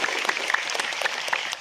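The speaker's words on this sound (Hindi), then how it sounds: "जोर से ताली बजाए" An audience at a church gathering honouring Servant of God Fr. Marian Zelazek applauds steadily, with continuous clapping at moderate, slightly distant volume and no talk over it.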